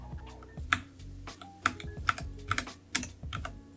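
Computer keyboard arrow keys pressed one at a time, giving crisp, close clicks at an uneven pace of roughly two per second, with faint background hum between the taps.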